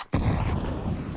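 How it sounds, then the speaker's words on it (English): A smoke grenade thrown in a video game opens with a sharp pop, then a dense, steady hiss of venting smoke that fills the rest of the short moment at close range. "I'm laying down some smoke. Throwing smoke. Grenade."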